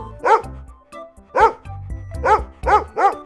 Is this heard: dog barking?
yes